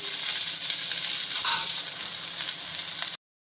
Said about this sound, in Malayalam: ഇതിപ്പം ഈ സവാള നമ്മൾ വഴറ്റണം